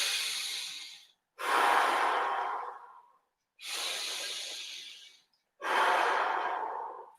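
Slow, deep breathing during a finger-pulling exercise: four long, loud breaths close to the microphone, each a few seconds, separated by brief silences.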